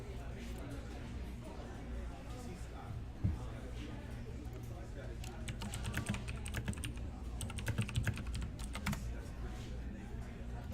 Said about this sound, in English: So you see them shuffling their decks as they put their discard piles in.